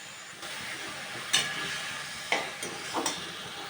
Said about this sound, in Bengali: এবার খুব ভালো মতন কষিয়ে নেব